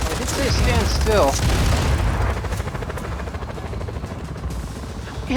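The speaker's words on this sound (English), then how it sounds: "How many helicopters do they have?" Helicopters fly in the Just Cause 4 video game, rotor drone thick under bursts of gunfire and explosions, with a voice speaking over the first part of the clip.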